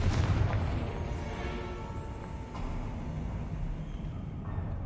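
A Confringo blasting spell in Hogwarts Legacy erupts in a dense, rumbling blast that rolls on for several seconds under steady game ambience, with a brief sharp crack midway.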